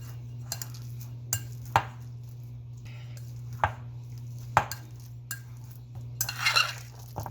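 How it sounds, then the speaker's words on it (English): Ripe bananas being crushed into a paste for fritters, heard as intermittent thuds and utensil knocks against a bowl over a steady low hum, ending with a brief busier burst of scraping. "I'm gonna crush the bananas"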